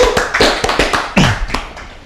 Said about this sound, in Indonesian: tepuk tangan untuk Squad TV